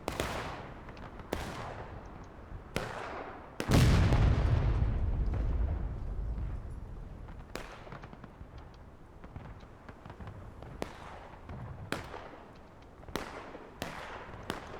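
An artillery shell in the War of Rights battle game bounces off a rock and explodes in a heavy, rumbling boom, surrounded by repeated sharp distant cannon and gun reports across the battlefield.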